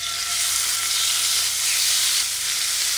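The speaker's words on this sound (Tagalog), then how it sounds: "Ilalagay na natin itong na-marinate natin na chicken." Marinated chicken frying in oil in a hot pan, a loud, steady sizzle with a bright crackling hiss that stays constant throughout.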